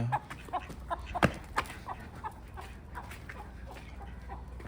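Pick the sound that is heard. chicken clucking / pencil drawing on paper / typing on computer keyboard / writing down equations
chicken clucking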